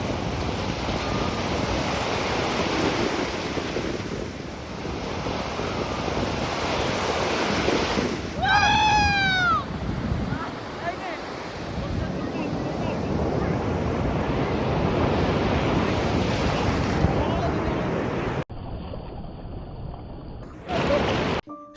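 Sea waves roll onto the beach at Puri with a broad, continuous roaring wash and heavy wind buffeting the microphone, interrupted by a brief chirping whistle midway and a few abrupt cuts near the end.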